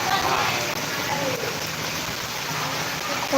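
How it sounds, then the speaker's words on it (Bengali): Heavy rain pours down on a flooded street in a dense, steady hiss of drops splashing on wet ground, continuous and close throughout. "বাম্পার বৃষ্টি হয়েছে রে পুরা ভেসে গেছে"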